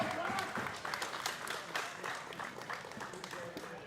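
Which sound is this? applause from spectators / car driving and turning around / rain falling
applause from spectators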